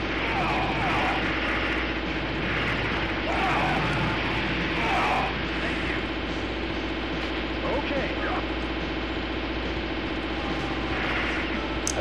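Aircraft engine drone from the Metal Slug X video game on PlayStation, a steady loud hum running throughout, with brief game effects and occasional voices layered on top.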